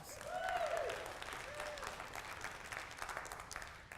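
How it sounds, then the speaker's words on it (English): An audience claps together in a sustained, dense burst that stays steady and fairly close for several seconds, with no talking over it. "Give yourselves a round of applause."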